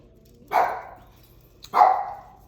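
Two loud, close dog barks about a second apart, each sharp onset fading into a short tail, with quiet room tone between.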